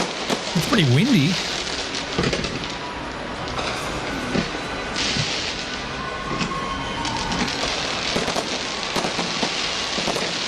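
New Year's Eve fireworks crackle and pop in a dense, continuous barrage outdoors on a windy night, like heavy rain, with a few louder bursts and faint voices in the background.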